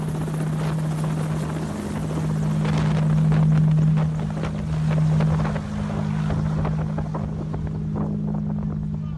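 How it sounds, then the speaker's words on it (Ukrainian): Military helicopters lift off during an evacuation mission at Azovstal in Mariupol, their loud, steady rotor drone and turbine whine filling the air throughout with wind buffeting the microphone. "гелікоптери почали підійматися"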